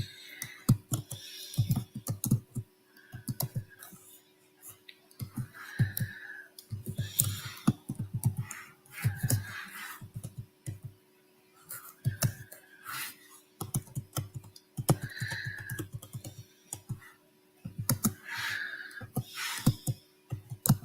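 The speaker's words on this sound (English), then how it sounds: "I'm just typing up one last message." Computer keyboard typing close up, quick bursts of clicky keystrokes separated by short pauses, repeating steadily throughout with no voices.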